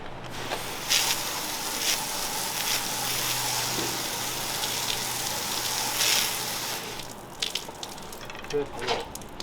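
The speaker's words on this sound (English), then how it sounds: "let's hit that thing with some water." A strong water spray hisses against the hull of an Everglades 325 boat after six weeks in the water, making a steady, close, broadband rush with small surges.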